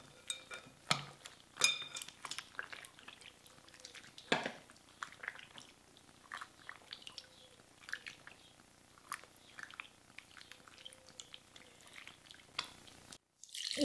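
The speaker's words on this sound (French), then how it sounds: "Malaxer et rincer." Seitan dough is kneaded and rinsed in water, giving scattered wet squelches, splashes and light clinks of a bowl close by and at a low level, with no voices.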